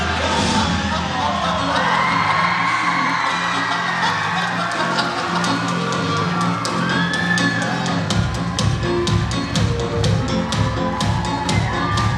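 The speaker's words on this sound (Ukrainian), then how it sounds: "На ваші оплески!" A concert audience cheers and whoops, with yells rising over a loud roar; rhythmic clapping breaks out near the end.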